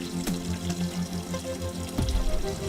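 Very hot coolant draining and splashing out of a motorcycle cooling system during a flush, a steady close pouring and trickling of water with a few sharper splashes and a stronger gush near the end.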